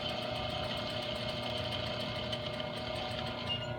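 A sewing machine runs steadily while edge stitching a skirt hem, its fast, even mechanical whir continuous and moderately quiet throughout.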